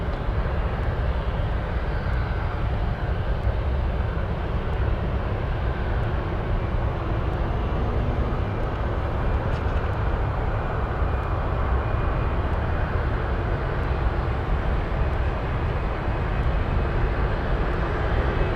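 Atlas Air cargo jet, flight Giant 7134, bound for Chicago at Anchorage airport, produces a steady, loud engine roar that holds evenly for the whole stretch without talk.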